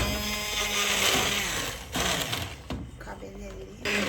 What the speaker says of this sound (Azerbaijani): Başlayıram blenderdən keçirməyə.